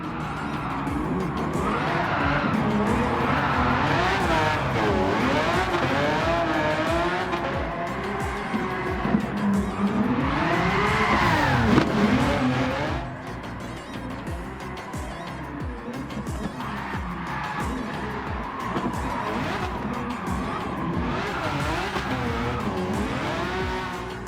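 A 1991 Ferrari Testarossa drift build in Gran Turismo 7 slides around a track, engine revving up and down with sustained tire squeal and skidding, loud and continuous with a brief easing in intensity midway.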